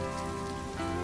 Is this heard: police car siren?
no